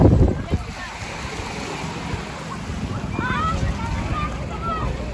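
Surf washes ashore at a beach resort in Laiya, Batangas, a steady broadband wash of waves with wind buffeting the microphone and faint background voices.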